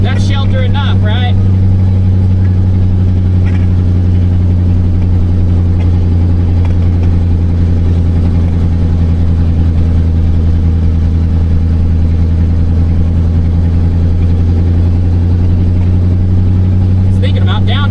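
A 1986 square body truck's engine lugs at low revs, a loud steady droning rumble throughout, with someone talking over it.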